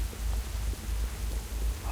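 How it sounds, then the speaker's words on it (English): Rainfall in the World of Warcraft zone Tirisfal Glades, a steady broadband hiss of rain with a low rumbling undertone, continuous and even throughout with no talking. "I love that it's raining on here."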